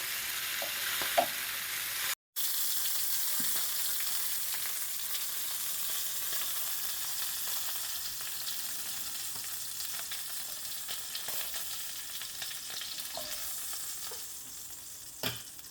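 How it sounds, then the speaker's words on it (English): Beef pieces browning in a hot pan for slow cooker beef stew, giving a steady close sizzle with occasional crackles and pops from turning the meat, no talking. "Go ahead and brown all 6 sides of all of the pieces of beef."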